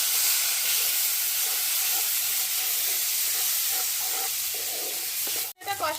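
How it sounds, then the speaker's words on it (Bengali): A thick Bengali spice paste of ground coriander, cumin, ginger paste and a little water frying in a pan for a potato curry, giving a steady close hiss and sizzle throughout with a brief break near the end. "ধনে গুঁড়ো জিরে গুঁড়ো আর অল্প একটু পরিমাণে জল দিয়ে মশলাটা খুব ভালো করে কষিয়ে নেবো"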